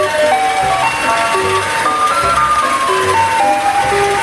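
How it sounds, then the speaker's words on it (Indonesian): A toy ice cream truck plays a tinkly electronic melody steadily and loudly, a simple looping tune with a bright, toy-like tone. "Di sini ada mobil es krim."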